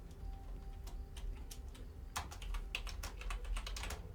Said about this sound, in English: What are you typing, Alexis?